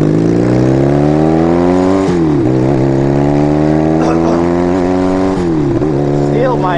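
Motorcycle engine droning steadily while riding on a road trip near Catalina, Arizona, its pitch climbing and dropping with gear changes and throttle, loud and close throughout.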